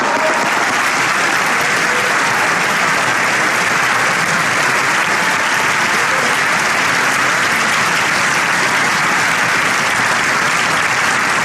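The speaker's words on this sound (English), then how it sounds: "Please give them a big round of applause" Sustained, loud applause from a large crowd at a political speech event, dense clapping filling the whole stretch without a pause.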